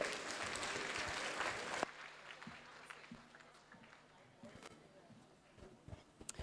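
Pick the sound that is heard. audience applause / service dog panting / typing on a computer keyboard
audience applause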